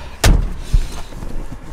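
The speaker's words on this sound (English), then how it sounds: "the doors go down." A Lamborghini LP640's scissor doors close: a loud, close thud, followed moments later by a second softer thump, then a quiet interior.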